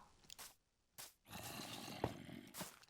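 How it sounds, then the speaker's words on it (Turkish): A Minecraft zombie groans in a survival game set in a forest, a few short, rough growling bursts separated by silence, followed by a longer raspy groan with crunchy, scraping texture. "Zombi sesi geliyor."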